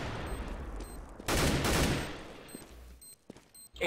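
Gunfire in the video game CS:GO on the Inferno map during a bomb retake, a dense burst of shots around the middle with scattered lighter game sounds before and after.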